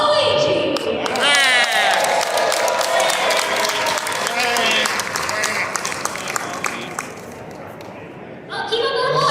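Audience at a gaming-convention costume contest applauds steadily for several seconds, a loud dense wash of clapping and cheering with voices mixed in, tapering slightly before a final swell.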